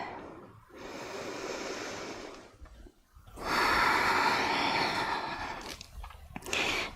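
Deep breathing in a yoga class, slow heavy breaths close by, one long breath out, a pause, then a louder drawn-in breath, with no talking.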